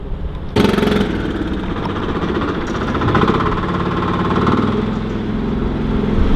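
A John Deere tractor engine on a farm, running loud and close with a rough, chugging mid-range drone that jumps up sharply after a moment and holds steady with slight surges, no voices.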